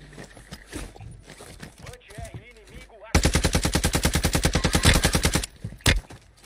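Video game gunfire erupts after a stretch of quiet background and talking: a long rapid burst of automatic shots at an even rhythm, loud and close, ending with a couple of isolated shots.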